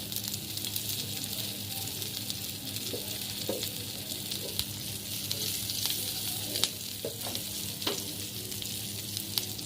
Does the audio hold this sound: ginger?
yes